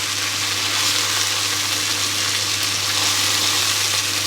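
Lamb pieces sizzle steadily in a hot pan while browning for a Moroccan tagine, a dense, continuous frying hiss with no pauses.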